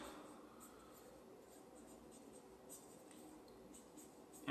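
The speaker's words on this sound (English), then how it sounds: "I always take a Sharpie marker and label what it is." A Sharpie marker writes a label on a wrapped package of frozen-bound top round, making a soft, faint scratching and squeaking over a quiet room, with no talking.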